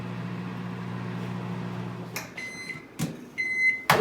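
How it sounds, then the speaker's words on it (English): A microwave oven hums steadily while heating marshmallows, its low drone running for about two seconds before clicking off, followed by a few sharp beeps and a door being opened. "That's what happens to marshmallows in the microwave."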